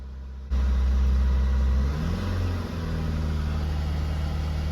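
A Mercedes Vito diesel engine with a soot-clogged DPF runs held at about 2000 RPM, a loud steady low drone that starts abruptly and shifts pitch slightly partway through, with no voices.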